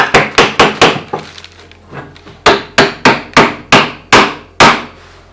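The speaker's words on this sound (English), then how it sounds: "We can tap our wedges in a bit more." A hammer taps wooden wedges into a homemade sash clamp: about fourteen sharp, loud wooden knocks in two quick rhythmic runs separated by a short pause, close up and without talk.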